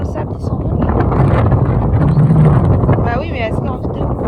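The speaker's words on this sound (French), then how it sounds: "il y a trop de vent, on se prend tout le sable" Strong wind blows across a beach at low tide and roars steadily into the microphone with loud, constant buffeting, while a voice speaks through the gusts.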